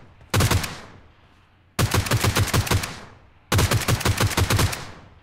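A G36C rifle fires in PUBG Mobile in three separate bursts of rapid automatic shots, close and loud, each burst followed by a short decaying echo and a pause.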